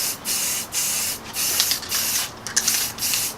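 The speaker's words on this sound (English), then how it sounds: "I'm just gonna spray the brown over it" Brown spray paint hisses out of an aerosol can onto a PVC bow in several short bursts separated by brief pauses, close and loud.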